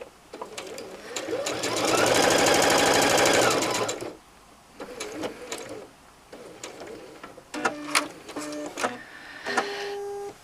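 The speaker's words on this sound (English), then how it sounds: "But I prefer machine stitching" Sewing machine stitching a pieced quilt binding onto the back of a quilt, a loud steady whirring run of about four seconds, then short start-stop bursts of stitching with pauses between them.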